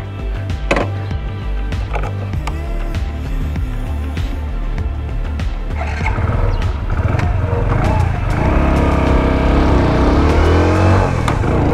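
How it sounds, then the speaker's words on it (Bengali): A Hero Passion XPRO XTEC commuter motorcycle being ridden, its engine droning steadily up close and rising in pitch as it accelerates, with wind and road noise building toward the end. "তো চলেন বাইকটা একটু চালায় দেখি।"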